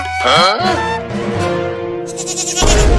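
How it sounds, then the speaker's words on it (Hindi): Young goat bleating in a Hindi animated comedy cartoon, one loud wavering cry close up, followed by voices talking over music. "अरे वाह बकरी का बच्चा"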